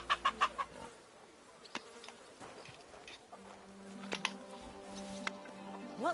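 Hens in the medieval world of the video game Kingdom Come Deliverance 2 give a quick burst of clucks at the start, then fade under a buzzing insect drone and soft farmyard ambience.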